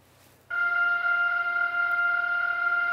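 A pulsar's radio signal converted to sound, a steady whirring drone like a kitchen blender, starting abruptly after a short quiet moment and holding a constant pitch, loud and unbroken with no separate pulses.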